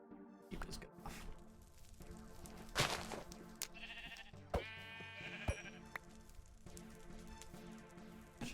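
Sheep in the Stardew Valley video game bleat several times among cheerful chiming game music and small effect sounds, quiet overall.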